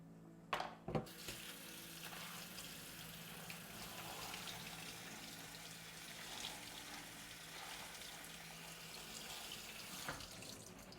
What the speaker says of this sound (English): So just going to chop it up and then wash it.